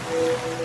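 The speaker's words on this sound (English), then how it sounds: "now you're drifting asleep to the scent and sound of waves." Ocean waves wash in a laundry scent advert, a steady, fairly loud surf roar with no talking over it.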